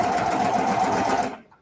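A sewing machine stitches the gathered layers of a ruffled skirt's waistband, a close, steady, fast mechanical whir that runs evenly and then cuts off abruptly near the end.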